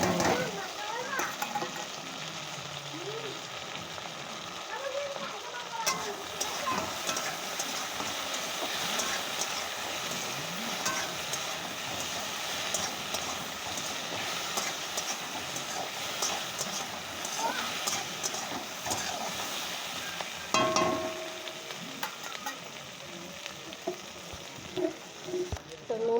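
Cut chili and ginger fry in hot oil with taro and potato, giving a steady close sizzle broken by stirring scrapes and clatter, while a voice talks intermittently over the cooking.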